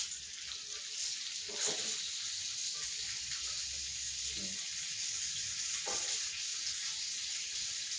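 Smash burger patties sizzle steadily on a hot griddle, a continuous close hiss with faint scrapes and taps, no talking.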